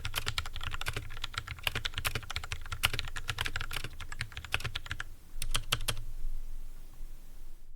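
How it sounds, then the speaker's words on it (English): Typing on a modified old computer keyboard tuned to sound soft, muted and low-pitched without rattle: a steady run of close, dull key clicks for about six seconds, then a brief pause and a few final strokes. "the sound is more or less exactly what I wanted. It's soft, it's muted, and it's low pitched, there's no rattles"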